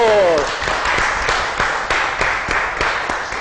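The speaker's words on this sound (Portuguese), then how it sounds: "Recebemos aplausos!" Applause from an audience at a round-table gathering, a steady broadband patter with scattered sharper claps, following a brief voice at the start.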